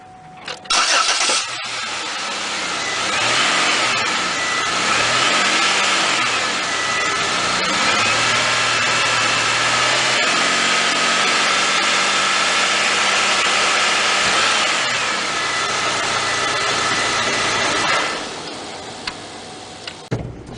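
A car engine catches after a brief crank, then runs with a steady loud mechanical hum and ticking for most of the stretch before cutting off near the end.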